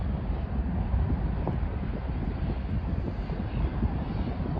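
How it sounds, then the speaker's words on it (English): Boeing 737 airliner taking off from a runway at Schiphol, a steady distant jet roar mixed with wind buffeting the microphone. "There is a 737 over there taking off on that runway."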